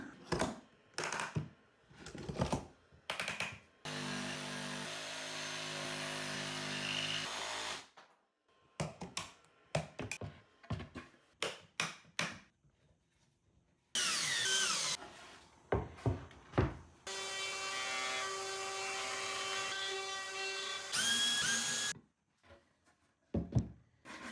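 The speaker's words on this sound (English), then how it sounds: "these pieces are big enough to jigsaw, so back to power tool woodworking" A jigsaw buzzes through wood in several long bursts, separated by sharper knocks and clatters of handling, close up and loud.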